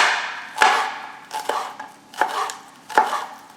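A knife chops green onion finely on a board, giving four or five crisp, close knocks spaced at an uneven rhythm, alone without talk.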